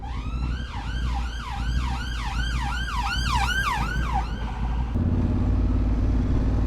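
An ambulance siren wails in London traffic, loud and close, its rising and falling cycles repeating quickly before cutting off abruptly, while a motorcycle engine rumbles low underneath the whole time.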